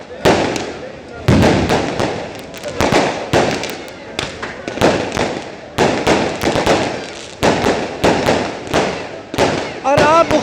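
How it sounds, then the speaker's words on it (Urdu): Fireworks at an Independence Day celebration in the Kalam mountains burst in rapid, loud, repeated bangs and crackles, one after another with short gaps, while people's voices are faintly audible amid the blasts. "یہاں پر آتش بازی جاری ہے"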